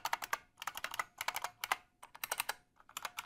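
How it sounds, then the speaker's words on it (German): An IBM Model M mechanical keyboard is typed on in quick bursts, each keystroke a sharp, loud clack, clustered in rapid runs separated by brief pauses, close-up and with no voices. "Tippe ich jetzt hier mal kurz die Tasten an."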